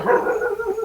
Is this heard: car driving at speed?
no